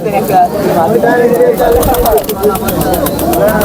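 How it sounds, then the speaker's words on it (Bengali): A male Giribaz pigeon coos at a busy pigeon market, its rolling calls close and loud amid other birds, with people talking and bargaining around it. "এটা একটা গিরিবাজের নর আছে বাজির"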